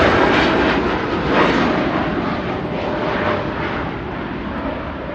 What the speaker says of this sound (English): That's TUI Dreamliner. Heading out to Montego Bay.